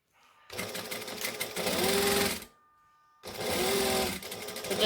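Two bursts of sewing machine stitching over a dress dart on a Christmas dress from Butterick 6094 pattern, each running a couple of seconds with a short silent pause between, close and loud.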